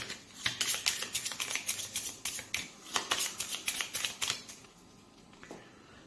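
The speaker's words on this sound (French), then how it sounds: "Je défausse la carte et je remélange le paquet" A deck of cards for a This War of Mine board game is reshuffled by hand, a close run of crisp rapid riffling flutters that tapers into quieter handling.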